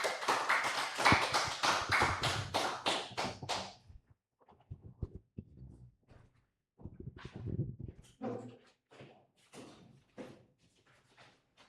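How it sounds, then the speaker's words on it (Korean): At a church reform forum, an audience applauds to welcome a speaker with a burst of dense clapping for a few seconds, followed by scattered taps, thumps and shuffling movement. "우리 박수로 환영하겠습니다"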